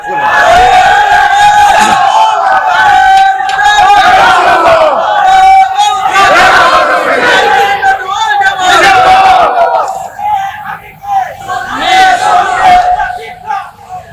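A large crowd at a Bangla Islamic waz gathering chants a slogan in loud, rhythmic unison, voices swelling in repeated waves, with a brief drop and then another surge toward the end.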